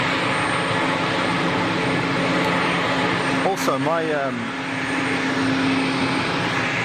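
Airplane engines at Geneva Airport make a steady, broad roar that fills the whole clip, with a brief rising whine near the middle and someone speaking a word over it.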